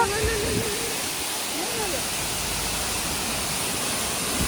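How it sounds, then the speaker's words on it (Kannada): Water rushes down a hillside stream in the Mullayanagiri and Horanadu area, a steady, full, hissing flow that stays loud and close throughout, with a voice briefly heard over it. "ನೋಡ್ರಿ ಎಷ್ಟು ಚಂದ ಹರಿದು ಬರತೈತಿ ನೀರು"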